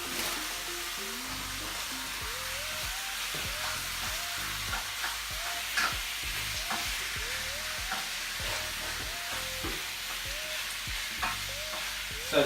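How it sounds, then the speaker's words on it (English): Spoon stirring chicken, peppers and garlic in a hot pan, with steady sizzling frying throughout and repeated scraping strokes at a regular rhythm, close and fairly loud, no talking. "just get a spoon and give it a stir."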